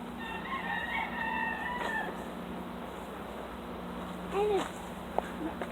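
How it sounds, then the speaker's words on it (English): Chicken clucking somewhere in a city park, a few brief calls heard faintly at a distance over a steady hum of background noise, with a voice speaking softly in the clip. "Somebody has a chicken."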